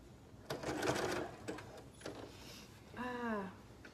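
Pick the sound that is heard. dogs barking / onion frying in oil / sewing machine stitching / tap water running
sewing machine stitching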